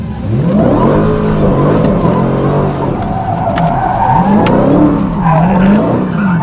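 A car drifts under counter-steer around a loop, its tires squealing loudly and continuously with wavering pitch over a revving engine, close by. No speech.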